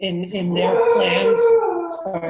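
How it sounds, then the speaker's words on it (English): A pet dog howls indoors during a public meeting, a long rising and wavering wail that carries through most of the moment, with a person speaking briefly over it at the start and end. "that's my dog"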